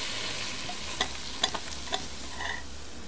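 Onion goes into a pot with pot roast meat, giving a soft steady sizzle with several sharp utensil clinks and scrapes from stirring, fairly quiet and with no voices.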